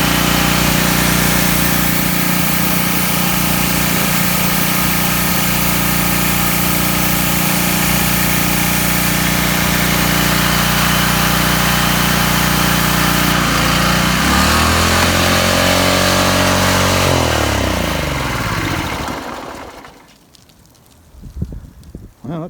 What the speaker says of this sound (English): I'm going to clean the carb and see if I can put it together and crank it up